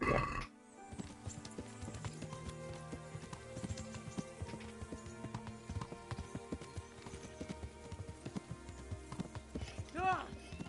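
A horse's hooves clip-clop at a steady walking rhythm in the medieval video game Kingdom Come: Deliverance. The hoofbeats sound over soft ambient game sound and an occasional faint whinny.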